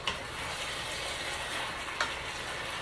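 Pepper steak cooks in sauce over high heat, a steady close hiss of frying running throughout, with two brief sharper crackles, one at the start and one near the end.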